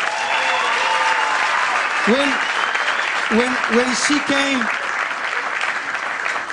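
Steady, sustained audience applause fills the room at an even level, with a voice speaking over the clapping partway through.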